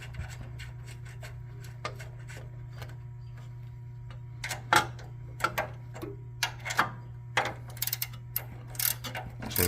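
A ratchet turns a 17 mm nut on a car's tubular upper control arm, making close, quiet rapid clicking in short bursts over a low steady hum, with rubbing and clanking of tools between strokes.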